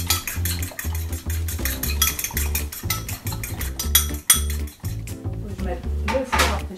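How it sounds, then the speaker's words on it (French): Two eggs beaten in a bowl with a utensil, a fast steady rhythm of close clinking and tapping against the bowl, with brief pauses and a voice speaking faintly underneath. "2 œufs maintenant. Voilà, on bat les œufs."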